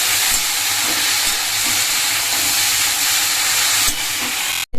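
Chopped banana flower sautéing in a hot pan, giving a loud, steady hiss of sizzling that stays constant and close before cutting off abruptly at the end.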